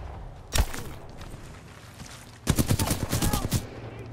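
Gunfire in the video game Titanfall 2: one sharp shot early on, then a rapid burst of several loud shots after a short pause, close and punchy.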